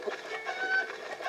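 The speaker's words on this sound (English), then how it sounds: "Specifically a rooster." A rooster clucking in the video game Breath of the Wild, soft, busy chatter of clucks heard over light game ambience in a short, faint burst.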